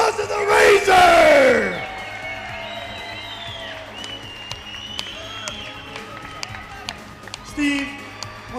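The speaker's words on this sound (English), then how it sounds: "Get a round of applause to the Razor!" Crowd at an MMA-style fight event roars and cheers for the belt-winning fighter, a loud burst of yelling up front that drops to scattered clapping and shouts, with an announcer's voice heard.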